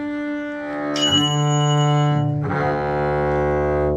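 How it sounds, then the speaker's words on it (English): A bell rings clearly during a string practice session, with a sustained, resonant tone that swells, fades briefly and then rings again, loud and close with no talking. "Just as the bell rings."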